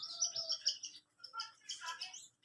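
A pet bird chirps in short, bright bursts of high tweets, fairly close and moderately quiet, with brief pauses between the clusters of calls.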